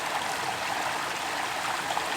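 A small hillside stream on the Isle of Skye runs steadily, its broadband rushing and bubbling close and continuous with no talk over it.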